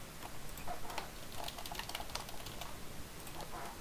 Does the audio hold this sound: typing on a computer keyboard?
yes